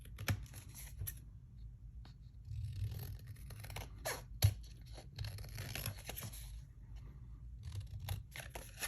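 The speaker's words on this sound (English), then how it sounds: "Scissors." Scissors snipping paper for a handmade envelope tag at a crafting table, quiet close crisp cuts and rustles in irregular bursts, with a sharper snip midway and no speech.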